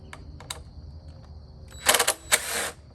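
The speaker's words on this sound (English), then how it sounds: "the next step is I got to use a T27 to take these 4 screws out" Screws come out of a motorcycle windshield mount with a T27 Torx driver: scattered small clicks and taps, then a pair of louder, rattling bursts near the end, close by with no talk.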